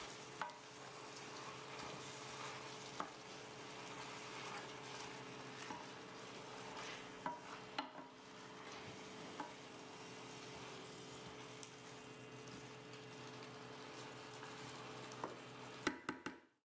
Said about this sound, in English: Stir to wilt the spinach and let it cook for 1 minute